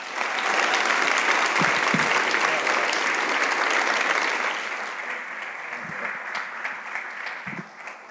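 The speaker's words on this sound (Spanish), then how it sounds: "Que el aplauso sea para el Señor." A congregation at a church service applauds loudly and continuously for the Lord, a dense wash of clapping that eases slightly toward the end.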